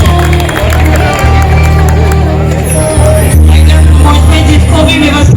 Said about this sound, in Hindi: तालियां दीपक श्रीवास्तव के लिए।